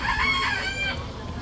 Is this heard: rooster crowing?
yes